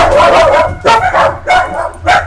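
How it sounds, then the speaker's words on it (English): A dog barks loudly and close by in four or five sharp, yelping bursts, spaced unevenly over a couple of seconds, with brief whimpering tones between them. "we needed another barking dog in our life"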